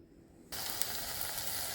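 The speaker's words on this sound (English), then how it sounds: "It's already sizzling." After a brief quiet moment, a loud, bright sizzle erupts and holds steady, the crackling hiss of bacon frying in a hot pan.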